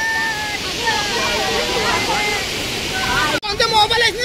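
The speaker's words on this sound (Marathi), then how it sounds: "भरपूर जोरात पाऊस पण पडायला लागलेला आहे" Heavy rain pouring down on a windy night at a hilltop shrine: a broad, steady rushing roar throughout, with people talking over it and a short interruption near the end.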